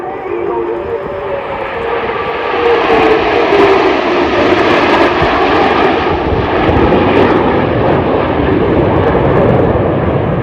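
CF-18 Hornet jets making a pass at the Gatineau-Ottawa airshow, a broad, loud jet roar that swells after a couple of seconds and holds steady, with a commentator's voice faintly under it.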